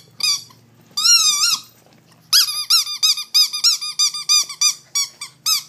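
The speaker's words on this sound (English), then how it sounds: "he's got his little squeaky toy here" A dog's squeaky toy squeaks loudly and close, first in two drawn-out squeals, then in a rapid run of short, evenly spaced squeaks as it is chewed, with only faint background noise.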